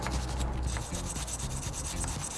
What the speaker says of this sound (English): you want to use the wire brush to clean off the gunk off the